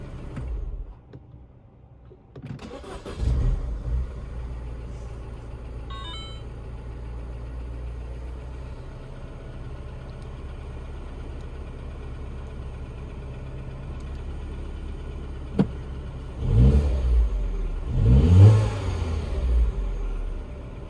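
A 2007 Mini One R56 with a Valvetronic eccentric shaft sensor fault idles steadily and low close by, with a few short engine revs near the start and two more rising revs toward the end.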